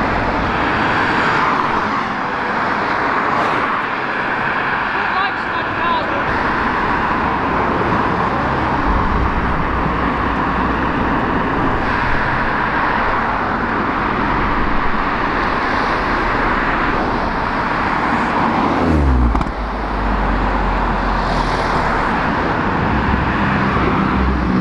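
A Renault Clio 172 track car passes at a drive-by car show, its loud engine noise swelling and then fading over a busy roadside background of traffic and crowd, with no clear speech.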